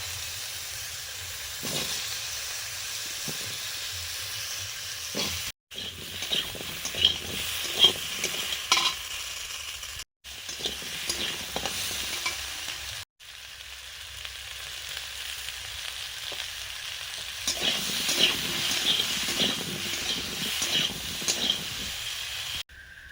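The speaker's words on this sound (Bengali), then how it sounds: "পটল আলুগুলো ভাজছি" Potato and pointed gourd pieces frying in oil, a steady hiss and sizzle with stirring scrapes and clinks, broken by a few brief cuts.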